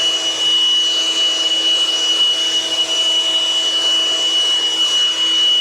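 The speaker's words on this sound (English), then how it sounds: "Just using it as a little bit of a blower to blow off my sidewalk and front porch here." A MekiPow diatomaceous earth duster run as a small blower to clear a sidewalk and front porch gives a steady, loud motorized whoosh with a constant whine, unbroken for several seconds.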